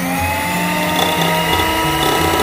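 An electric hand beater whirs steadily while mixing custard cake batter, a continuous buzzing motor tone with faint wavering pitch changes and a rattling edge, loud and close with no talking.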